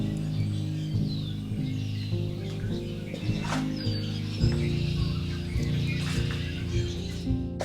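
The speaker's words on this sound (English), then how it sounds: "I wanted to open the door because the birds are singing so loud." Birds sing outside an open door, scattered chirps and tweets sounding somewhat faint and distant over a steady low indoor hum.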